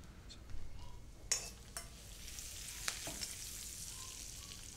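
Curry leaves sizzle in hot tempering oil with mustard seeds, cumin and asafoetida, a faint steady hiss with a few sharp crackles and pops near the pan.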